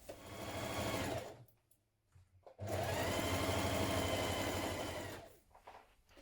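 A sewing machine stitches a side seam on dungarees, running loud and steady in two long bursts with a short pause between them, then trailing off near the end.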